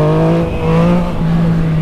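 A Yamaha MT-09 motorcycle engine pulls a wheelie with a loud, close, steady drone that wavers slightly in pitch as the throttle shifts and runs without a break.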